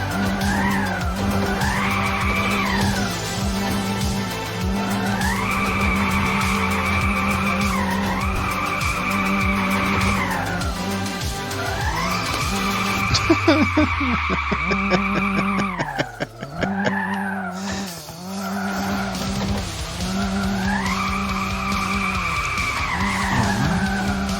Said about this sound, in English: I'm not good at drifts in any game